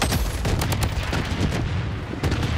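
An air strike bombardment in the shooter game Blood Strike pounds away in a dense, loud barrage of booming blasts and rapid gunfire that keeps going without a break.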